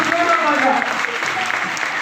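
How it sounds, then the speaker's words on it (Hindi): An audience at a business meeting applauds an upcoming leader, a loud burst of clapping with voices and chatter mixed in throughout the short stretch. "हमारे upcoming town leader mister Naval sir के एक बार जोरदार तालियां।"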